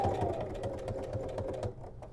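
A sewing machine runs steadily, stitching an iron-on tag onto a fabric shoulder bag; a close, even mechanical whir with rapid needle pulses that slows and stops near the end.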